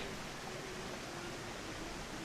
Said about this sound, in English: I think there's a stream here